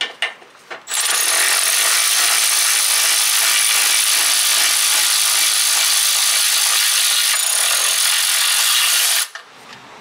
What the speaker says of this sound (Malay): Dengan menggunakan cordless ratchet dan soket 19, kita buka dulu bolt melintang yang kat depan ni.